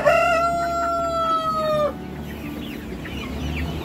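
Chickens, roosters and hens in a flock: a rooster's loud crow rings out close by, then stops abruptly, leaving quieter hen clucking and soft calls underneath.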